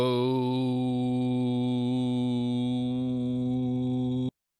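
A voice sings one steady sustained note for about four seconds, clear and close, with a slight waver at the start before cutting off.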